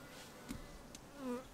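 A swarm of honeybees clustered around a tree branch buzzes faintly and steadily, with individual bees droning closer past the listener now and then.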